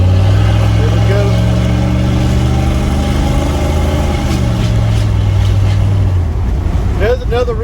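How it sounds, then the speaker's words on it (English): Loud, steady car engine drone with a deep rumbling exhaust note and a Spectre Performance air intake throughout, a brief rev near the end, with people talking over it. "I'd rather listen to my exhaust than a radio."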